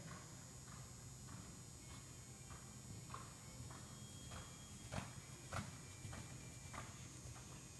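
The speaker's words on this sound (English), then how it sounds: "Lengthen the stride of the canter." Horse hooves striking the ground at a lengthened canter, a faint, distant rhythmic thudding in repeated beats over a steady background hum.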